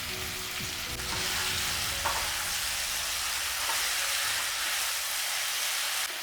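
Cauliflower korma sautéing in a pan, seasoned with salt and sugar, gives a loud, steady, dense sizzle with a few light stirring knocks near the start. No voices are present.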